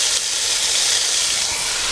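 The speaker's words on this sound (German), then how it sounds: "ich werde mir jetzt meinen Hockerkocher hier anschmeißen und den Dutch-Ofen schon mal aufheizen." A gas stool burner roars steadily as it heats a Dutch oven, a loud, even, close rushing hiss with no pauses.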